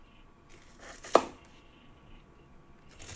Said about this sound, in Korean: 대파 2단을 적당한 크기로 썰어줍니다.